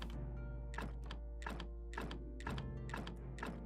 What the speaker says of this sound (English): Let's quickly add fuel to the fire.